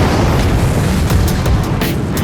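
Loud on-set explosion effect for a sept blowing up with wildfire on a soundstage at the Paint Hall in Belfast, a dense sustained rumbling boom that fills the whole moment without pause.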